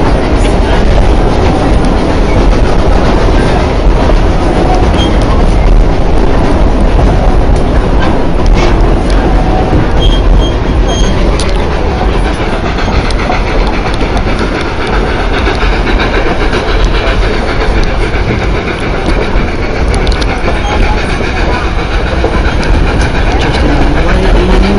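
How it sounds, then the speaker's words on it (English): A Durango and Silverton railroad train rolls past across the way, a loud, steady rumble of wheels and cars with faint clickety-clack running the whole time without a break. "There's the train on the other side."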